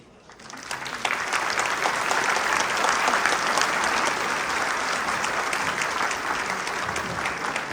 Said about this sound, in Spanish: Fuerte el aplauso para la doctora Mariela por la conferencia magistral.